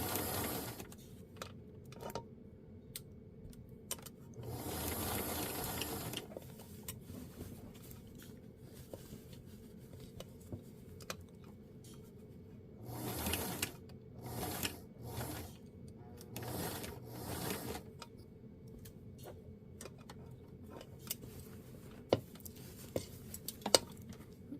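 A home sewing machine stitches a garment seam slowly, quiet and close, running in short bursts and one longer run separated by pauses with small clicks and handling noises.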